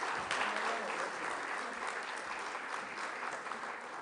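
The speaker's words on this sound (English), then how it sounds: "Ladies and gentlemen, kindly keep the applause going and you may please be seated" An audience at an investors' roundtable conference in Delhi applauds, a steady wash of many hands clapping at moderate, fairly distant level that eases slightly toward the end, with no one speaking.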